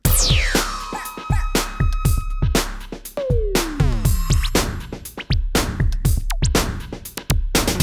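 Layered XV-5080 drum kits with effects patches in a 90s video game style: punchy, steady drum hits drive the groove while sweeping synth effects and tonal stabs rise and fall over the top, loud and dense throughout.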